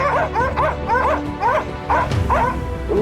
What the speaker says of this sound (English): the hunting dogs barked sharply